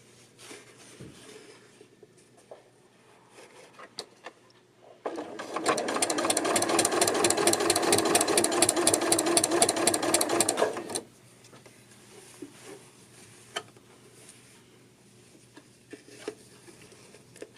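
A sewing machine set to a stitch length of 4 runs a seam on a dolman sweater in one steady, loud burst of about six seconds, with quieter handling before and after.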